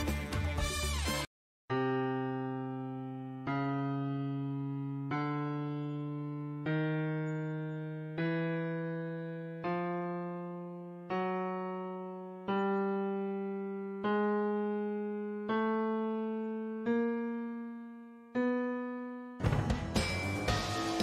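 Twelve notes ring out one after another on a keyboard that mimics a small classic piano, each struck cleanly and left to decay, slowly climbing in pitch at a steady pace with no talk.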